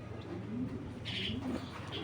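Pigeons coo in low, repeated throaty phrases from a loft holding racing pigeons, with soft chirps and a brief higher call partway through, steady and close.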